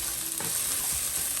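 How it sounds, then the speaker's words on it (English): Garlic sizzles in a hot frying pan on medium-high heat for Venezuelan fried rice, with a steady crackling hiss and soft scraping stirs, no voices. "I'm just going to toss this around here, stir it around, make sure they all break up."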